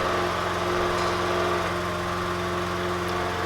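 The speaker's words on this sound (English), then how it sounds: "about to mow the grass and it's gonna get really loud" A lawn mower cuts grass close by with a loud, steady engine drone and no pause for the whole stretch, and no one speaks.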